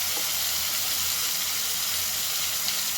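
A paste of tomato, ginger and green chili sizzles steadily in a pan with fried potatoes over a low gas flame, a continuous hissing close up with no talk.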